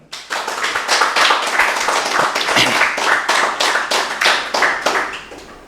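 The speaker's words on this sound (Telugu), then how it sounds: "ఐదో రోజు గట్టి క్లాప్ చేద్దాము" An audience at a day-five meditation session claps loudly and steadily, a dense close wash of hand claps that runs almost without pause.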